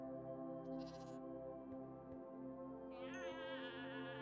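Screaming goats bleating loudly in Minecraft, with a harsh, wavering cry running for several seconds over steady game background hum, and a second higher-pitched bleat rising near the end.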